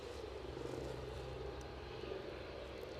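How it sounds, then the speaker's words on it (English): A helicopter approaches Aberdeen airport as a faint, steady engine drone, distant and unchanging, with no voices over it. "So I can hear that helicopter"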